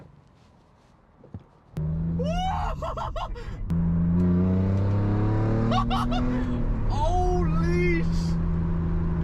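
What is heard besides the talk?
BMW engine revving with new exhaust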